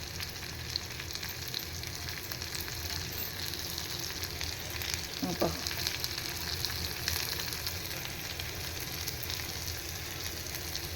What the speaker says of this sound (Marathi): कांदा परतवून घेते